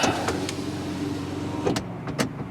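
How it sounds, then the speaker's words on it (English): Rear power window motor on a 2004 Chrysler PT Cruiser Limited whirs steadily as the glass runs down and back up, a continuous electric hum with a few clunks as it reaches its stops, heard close inside the car. "So first we have our power window, all the way down and up"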